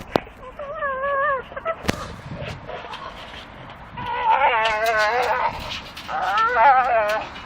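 A Staffordshire bull terrier makes strange, strained whining and wailing noises while swinging, several drawn-out wavering cries in bursts, with a sharp knock or clank between them.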